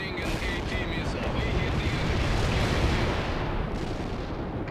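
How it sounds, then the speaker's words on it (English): An anti-tank missile launches in the real-time strategy game World in Conflict amid a dense, roaring wash of battlefield explosions and gunfire, loud and continuous for several seconds. "Firing an AT missile."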